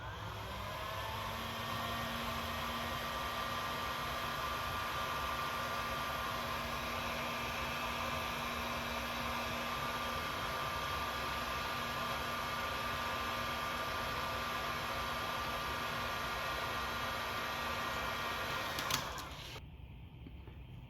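A heat gun blows steadily over shrink tubing on a wire splice, a continuous close, even whooshing hum with a faint tonal whine that holds for most of the stretch before cutting off near the end.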